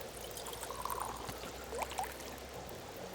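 Water poured for birch bark tea in The Long Dark, a faint, soft, continuous trickling stream with a few small gurgles, heard alone over quiet background.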